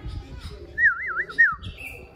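A red-whiskered bulbul chick only a few days old gives a couple of thin, wavering chirps close by, with faint background noise.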